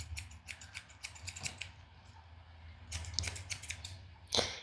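Scissors snip at the tips of a Yorkie's fur during grooming, quiet close clicks in quick clusters with short pauses between bursts.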